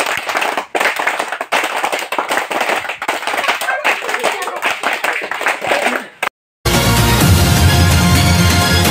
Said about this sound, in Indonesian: tepuk tangan pramuka